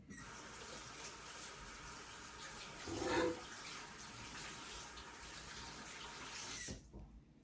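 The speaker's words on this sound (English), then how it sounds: "Wash my hands" A tap runs steadily at a sink while hands are washed under it, giving a soft, continuous rush with a brief louder splash midway before the water cuts off near the end.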